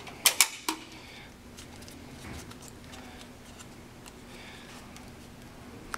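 A spring-modded PVC Nerf Nite Finder blaster is cocked, giving a few sharp, close mechanical clicks and creaks at the very start before the sound falls to quiet room hiss.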